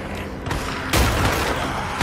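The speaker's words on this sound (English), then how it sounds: "Schizo, stop shooting!" Gunfire in the video game Days Gone, a loud continuous burst of shots with a heavier blast near the middle, close and dense with no talk over it.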